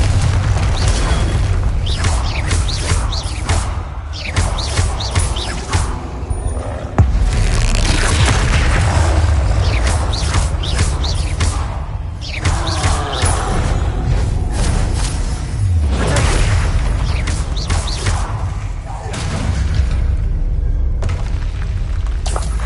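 Confringo explosion spells blasting in Hogwarts Legacy, a dense run of loud booming impacts and crashes that follow one another across the whole stretch, with no talk over them.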